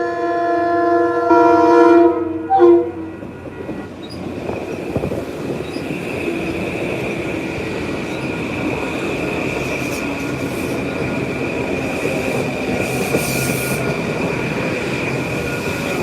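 A train rolls in with a loud horn-like tone at first, then a steady rumble of wheels and a sustained high squeal as it runs.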